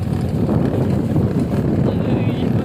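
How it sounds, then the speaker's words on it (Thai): Strong wind buffets the microphone outdoors at a farm garden while fishing for tilapia, a constant loud low rumble with gusting texture throughout. "ลมแรงครับ"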